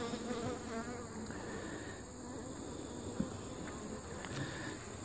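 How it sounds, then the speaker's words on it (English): Honey bees swarm around an open hive, giving a continuous, even buzz with close wingbeats drifting in and out, quiet overall and with no talking. "you can tell the hive's a little calmer, even though those guys are all over me"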